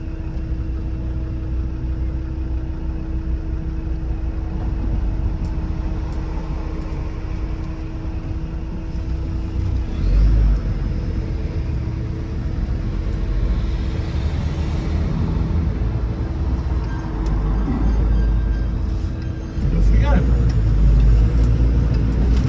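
A Land Rover Defender 90 TD5 soft top runs steadily while being put into reverse and moved, its diesel engine a constant close drone with a couple of louder surges, and someone talks over it.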